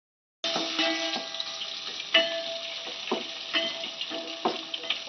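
Ginger sautéing in a pan for a chicken curry, a steady close sizzle of frying with repeated scraping stir strokes of a spoon against the pan, no voices.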